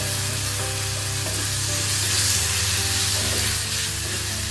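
Ginger garlic paste sizzling in a pan while being sautéed for veg kurma, a steady loud frying crackle that carries on without a break, with occasional stirring and no talk.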